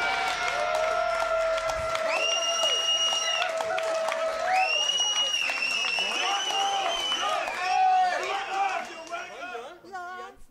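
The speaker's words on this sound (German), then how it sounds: "Tio, die klatschen Zugabe für uns." At a commemorative concert, an audience claps for an encore, the applause and crowd chatter running underneath prominent voices and tonal sounds on stage before fading near the end.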